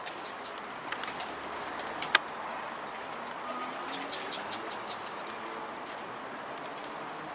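Pigeons around a loft coo faintly in the open air, with brief wing flaps and a few sharp clicks over a steady outdoor hiss, no talking.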